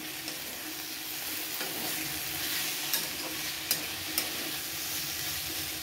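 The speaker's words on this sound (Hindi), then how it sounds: "सब्जी को बीच बीच में चलाते रहेंगे, अच्छे से इसे और भूनेंगे।" Potato and pointed gourd sabzi stirred and fried in a pan with garlic and little oil, a steady close sizzle with occasional spoon scrapes and clinks, no talking.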